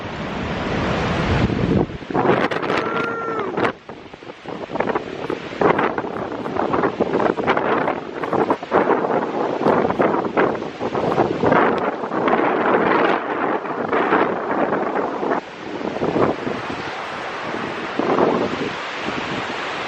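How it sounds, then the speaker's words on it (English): Strong gusty wind blows through the Smoky Mountains near Gatlinburg as a storm comes in, buffeting the microphone with loud, roaring surges that rise and fall without pause. "And yeah, it's windy."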